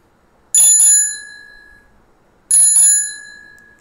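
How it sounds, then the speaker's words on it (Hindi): A bicycle bell rings twice, each a bright double ding that rings out and fades, separated by a short silence. "पांचवी साइकिल की घंटी,"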